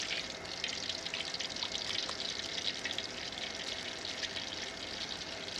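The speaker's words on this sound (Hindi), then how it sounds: "ऑयल डाल लेंगे।" Cooking oil in a hot karahi over a wood fire, giving a steady, close hiss and crackle of sizzling with faint scattered pops throughout.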